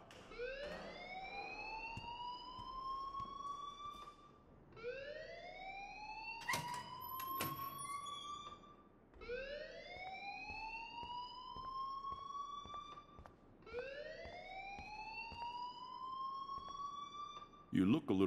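A wailing alarm rises and sweeps repeatedly in the video game Life is Strange, four long cycles at steady volume, with faint voices and other game sounds beneath.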